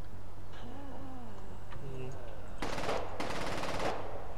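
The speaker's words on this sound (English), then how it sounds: "Oh, I hear gunfire." Rapid bursts of machine gun fire from the zombie video game Contagion, two dense volleys in the second half, following a stretch of quieter game ambience with faint background sounds.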